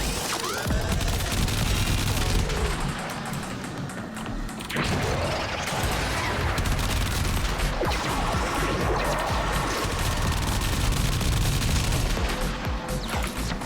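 Sustained rapid automatic gunfire from an arch-gun machine gun in the video game Warframe, loud and continuous with crashing impacts, the stream breaking briefly once before hammering on for the rest of the burst.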